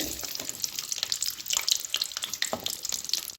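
Small shallots frying in hot oil in a kadai for brinjal sambar, a close, continuous crackling sizzle with bright spitting pops throughout.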